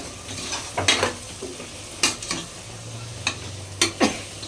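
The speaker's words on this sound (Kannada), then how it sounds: "ಟರ್ಮರಿಕ್ 2 ಸ್ಪೂನ್, ಸಾಲ್ಟ್ 2 ಸ್ಪೂನ್ ಹಾಕ್ಬಿಟ್ಟು ಫ್ರೈ ಮಾಡ್ತಿದ್ದೀವಿ" Mutton chops frying in a pan with turmeric and salt, heard as a low steady sizzle broken by several sharp scraping stirs of a utensil against the pan, with no talking.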